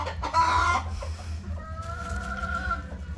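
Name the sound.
brooding hen clucking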